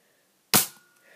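A Nerf gun fires once, a single sharp, close pop that trails off quickly in a quiet room.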